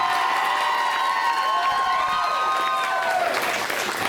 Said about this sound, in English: a round of applause for Dad and any of the other parents who are here with their children